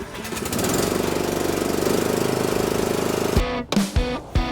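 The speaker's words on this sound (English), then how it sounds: "I'm gonna run this Milwaukee M18 lawnmower through the thickest part of this section" A Milwaukee M18 electric lawn mower forces its way through thick grass, a loud steady churning drone that holds for several seconds, then stutters and bogs down into uneven surges near the end.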